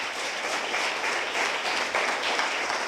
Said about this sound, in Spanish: Le damos un aplauso al Cristo de la gloria.